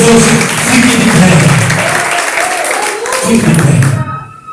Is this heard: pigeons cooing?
no